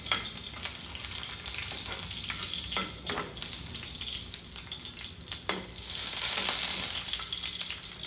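Garlic fries in a pan with a steady, close sizzle marked by stirring clacks, and the sizzle swells louder near the end.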